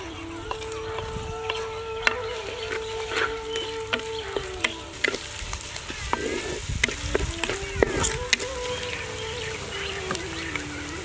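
Onions dropping into hot oil for a village-style karuvadu (dried fish) kuzhambu, a close, crackling sizzle with scattered pops and clicks of stirring, while faint tonal hums run underneath.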